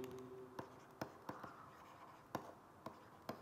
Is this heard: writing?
yes